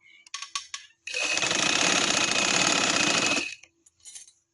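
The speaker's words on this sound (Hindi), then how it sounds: "अब मैंने इसको ऐसे सिलाई लगाती जाने और ये सीधा करते जाना है।" A sewing machine stitches black trouser fabric in one steady, loud run of rapid whirring that lasts about two and a half seconds, with soft handling sounds before and after it.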